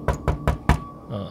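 Knocking on a door in a ghost story: four sharp, evenly spaced raps, close and loud, then a brief murmur of a voice as the knocking stops.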